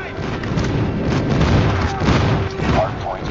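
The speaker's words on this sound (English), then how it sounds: "Friendly airstrike incoming." Airstrike explosions in a first-person shooter video game: dense rumbling booms and crackling blasts rolling continuously at close range, with game voice callouts heard over them.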